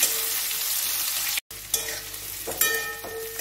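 Onions sizzle in a pan while being stirred, destined for a gourd-and-prawn curry; continuous loud frying hiss broken by a split-second gap, then scraping spatula strokes near the end.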